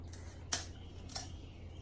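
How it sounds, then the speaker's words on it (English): Two quick, faint snips of scissors cut through a rabbit's feet at the joints during rabbit processing, each a short crisp crunch against a quiet background. "These scissors just cut right through it."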